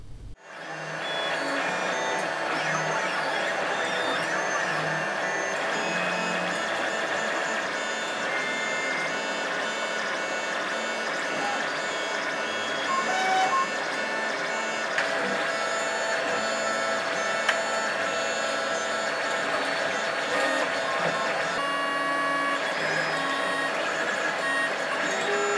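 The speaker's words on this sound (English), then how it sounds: "I'm going to print these parts out and we'll see how it works." A 3D printer runs steadily while printing parts for a BB-8 droid, its motors giving a continuous whirring drone with shifting tones, close and loud, without speech.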